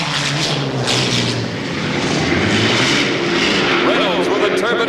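A high-pitched turbine-powered hydroplane race boat roars past, its whine rising and falling under an excited commentator's voice.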